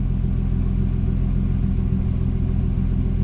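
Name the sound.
turbocharged BMW E30 M50 engine at full throttle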